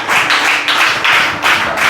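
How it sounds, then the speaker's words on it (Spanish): A church congregation claps in unison, loud bursts of rhythmic clapping coming in a steady beat about twice a second, with no voices. "déle un fuerte aplauso al Señor"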